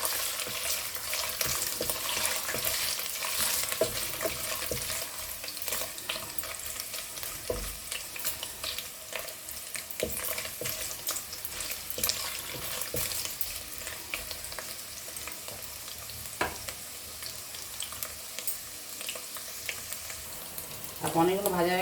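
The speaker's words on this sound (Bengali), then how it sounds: "তেলটা গরম হয়ে গেছে, আমি পনিরগুলো একটুখানি ভেজে নেবো।" Paneer pieces fry lightly in hot oil in a home kitchen, a loud, continuous sizzle and crackle with occasional clinks from stirring, close and steady for the whole stretch.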